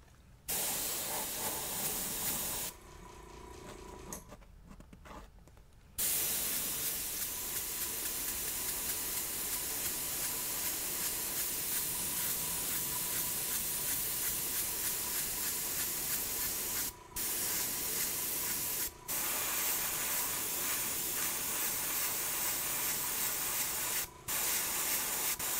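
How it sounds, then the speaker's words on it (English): Spray paint hisses in long continuous bursts while fading color onto an orange-tinted Nike Air Force 1 sneaker, with a brief pause after the opening seconds and a few short breaks later. "let me just try to take a little bit more of the orange out by spraying it"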